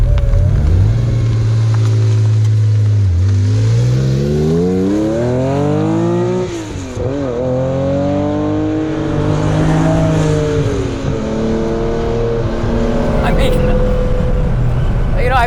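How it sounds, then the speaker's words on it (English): A flat-six race car engine howls through rising and falling revs on a racetrack, shifting gears repeatedly, loud and close with a coarse, raspy tone throughout. "flat sixes don't sound that good at racetracks. I think they sound coarse and like angry"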